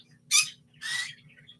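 A pet bird called Big Bird gives two short harsh squawks close by, roughly half a second apart, over a low steady hum.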